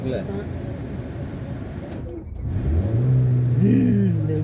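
A car engine idles low, then revs up as the driver presses the accelerator, its pitch climbing and swelling steadily while people talk nearby.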